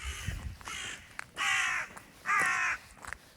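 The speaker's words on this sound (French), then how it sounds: "Des corbeaux." Crows in Scotland caw repeatedly outdoors, two long harsh calls standing out clearly among shorter, fainter caws and soft background noise.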